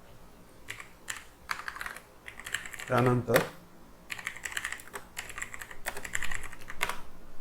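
Keys on a computer keyboard clatter in quick bursts of typing, close and clear, broken by a short pause while someone speaks briefly.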